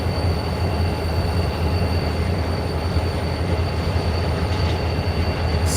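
CP Heritage 7015 freight train rolls past at Coffey's Cliff in a dense, continuous rumble of wheels and cars, with a faint high wheel squeal over the steady close roar.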